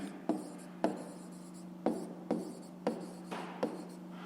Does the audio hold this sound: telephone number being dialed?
no